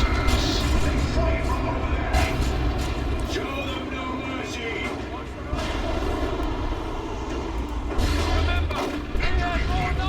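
Battle din from a Dawn of War 2 match: a grenade bursts among stormtroopers amid continuous gunfire and booming artillery, a dense, loud layer running the whole time beneath a commentator's voice.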